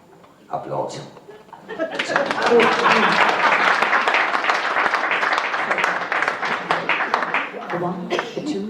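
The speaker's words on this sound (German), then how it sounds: "Applaus." Audience applause at a Kölsch-language stage show, a dense sustained wash of clapping that swells after a brief pause and holds steady, with a voice heard faintly at the start.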